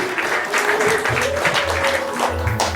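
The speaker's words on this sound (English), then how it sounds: "Let's give them a round of applause" Wedding guests applaud the couple in a full, steady round of clapping that runs throughout, with a voice talking over it.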